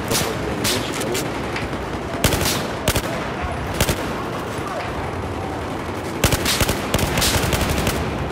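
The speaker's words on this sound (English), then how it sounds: "They're just shooting at me anywhere, hoping for the best." Battlefield 4 gunfire on Xbox One, sustained automatic bursts crackling loudly and close throughout, with a few sharper blasts standing out and brief faint voices underneath.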